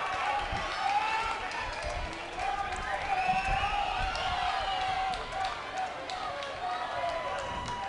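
Steady murmur of a large crowd at a high school baseball championship semifinal, continuous and fairly loud with scattered shouts, under a commentator's talking.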